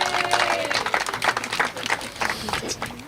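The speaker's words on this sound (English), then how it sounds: "Please give them a round of applause." Crowd claps at a plaza grand opening ceremony, an uneven patter of applause mixed with murmuring voices and a faint tonal hum early on, moderately loud and fading slightly toward the end.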